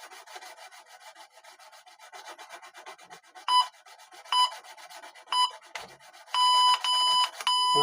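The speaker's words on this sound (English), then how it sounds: "So there was 2 minutes of filing a fret with 2 different tools" A leveling tool files a guitar fret in quick, gritty back-and-forth strokes that scrape steadily at close range, while an electronic timer beeps in short bursts, ending in a longer run of beeps.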